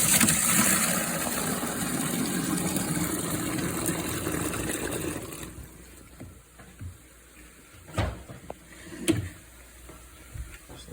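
Hot water extraction machine with a small VLM vacuum pulling dirty water after cleaning stairs: a steady watery gushing rush for the first five seconds, then quieter with a few sharp clunks and knocks.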